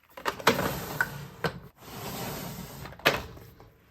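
A few sharp wooden knocks and sliding scrapes as a makeup drawer rolls open and bumps to a stop, with a low hum throughout.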